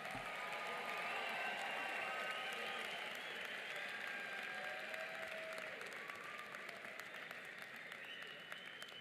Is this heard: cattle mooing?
no